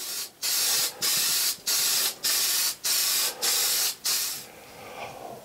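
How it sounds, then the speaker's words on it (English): Seven short bursts of aerosol clear coat spray hiss in a steady rhythm, close by, over a decal on an antique sewing machine, followed by a faint rattle as the spraying stops. "Then clear coat the decal."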